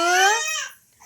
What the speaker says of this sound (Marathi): बघा किती रडत आहे तो पण